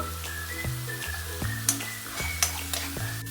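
Ground onion paste with turmeric fries in hot oil with a steady close sizzle, while spatula strokes scrape the pan at regular intervals and a faint whistle-like tone lingers underneath, with no talking.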